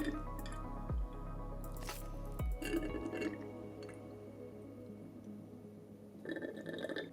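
Coolant being poured into a water-cooled PC loop during a flush and refill, with wet gurgling squishes and drips, a couple of deep glugs early on, then quieter trickling, close and fairly faint.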